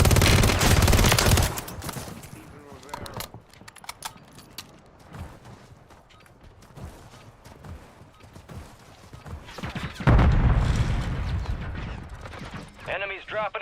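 Rapid bursts of gunfire from a shooter video game with enemies dropping into the area, crackling fire heavy at the start and again near the end, with quieter stretches and a voice talking between shots.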